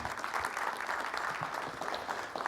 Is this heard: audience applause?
yes